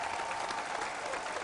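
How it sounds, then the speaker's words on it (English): Applause fills an awards ceremony hall as Usain Bolt is honoured as Commander of the Order of Distinction, a dense, even clapping from the audience, moderately distant and steady throughout. "The applause has started even before the orator, Erica Allen, could complete what she had to say"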